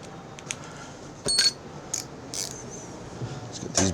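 A quarter-drive ratchet turning bolts on a Craftsman riding mower in a shop, heard as a few faint, quick clicking bursts and light metallic ticks against a quiet background hum.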